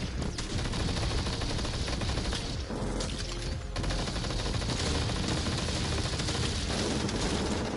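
Relentless gunfire in the VR shooter Blasters of the Universe on PSVR: loud, dense rapid-fire blasting that runs nearly unbroken throughout, with a couple of brief dips in intensity.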